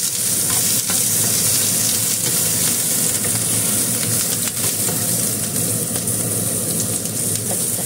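Onions fry in a hot pan with an even, loud sizzle that holds steady and close throughout, a constant hiss of oil crackling with no voices over it.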